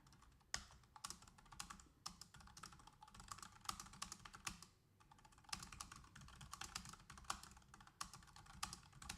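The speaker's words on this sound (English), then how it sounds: "I'm typing it out right now" Steady, fast typing on a computer keyboard, close and quiet, with rapid clicking keystrokes and a brief pause midway.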